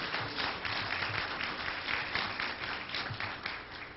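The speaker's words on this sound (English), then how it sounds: "Give yourselves a round of applause for being with us today." Steady audience applause in a college hall, many hands clapping continuously and fairly loudly throughout with no break.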